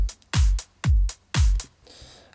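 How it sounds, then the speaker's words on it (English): A drum pattern thumps out in a steady beat: three deep kick hits each followed by a crisp snare or cymbal splash. "So I'll quickly put together a drummer track here,"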